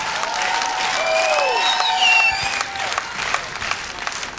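A studio audience at a televised show applauds, a dense, steady patter of clapping with some cheering, while whistling or sliding tones from the hall sound over it midway.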